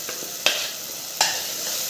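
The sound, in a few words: onion and tomato sautéing in a pan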